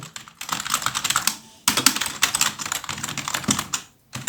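Rapid clicky keystrokes on a Rampage Alpor Pro mechanical keyboard, close and crisp, in two bursts separated by a short pause, no voices.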